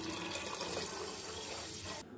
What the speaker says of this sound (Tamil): ஸோ அதுக்கு வந்துட்டு நம்ம 5 டம்ளர் தண்ணி சேர்த்துணும்.